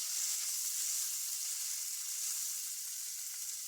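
Food sizzles in a hot pan just after being turned over, a bright, steady hiss with faint crackle, close and fairly quiet, with no one talking.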